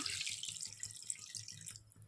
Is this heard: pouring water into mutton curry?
yes